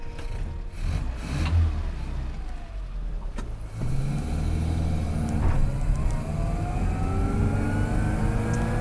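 A car with a newly fitted KAD rear anti-roll bar pulls away on a test drive, its engine rising from idle into a steady revving acceleration with rising pitch, heard close and fairly loud.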